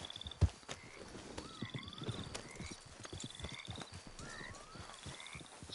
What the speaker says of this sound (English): park your horse over here